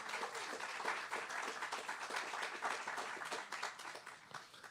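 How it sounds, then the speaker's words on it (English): Crowd at a housing groundbreaking ceremony claps for a woman-owned development partner, a moderately quiet, even patter of many hands that carries on throughout and tapers slightly near the end. "Let's give her a round of applause."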